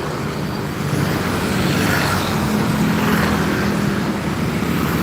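A car carrier truck passes on a road, giving a loud, steady roar of engine and tyre noise that holds evenly throughout, with no talking.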